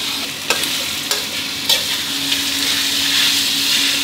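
Pork belly and fingerroot are stir-fried in a pan for a spicy stir-fry. A loud, constant sizzle fills the clip, with a few sharp spatula scrapes in the first two seconds.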